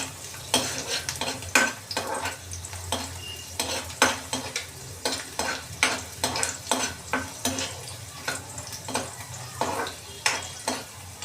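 Garlic frying in a pan for cheese garlic bread, a soft steady sizzle punctuated by regular spoon scrapes and taps against the pan, close and with no talk.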